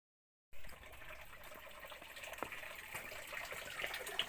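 Water pours and splashes steadily at a stepwell in the Himachal hills, a faint continuous gushing with small splashes, as if a vessel is being filled, starting abruptly after a short silence.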